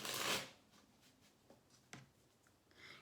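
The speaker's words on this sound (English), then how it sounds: "Let me give this one more shuffle and see." Tarot cards being shuffled: a brief, fairly loud riffle burst at the start, then quieter flicks and soft card slides close to the microphone.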